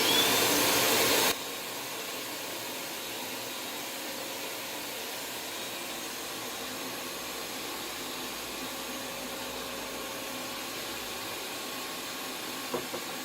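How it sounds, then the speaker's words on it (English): A shop vacuum on its own power circuit kicks on with a loud, steady roaring whoosh for about a second, then drops to a much quieter, even hum that runs on alone. "So as soon as I plug this in, the vacuum should kick on."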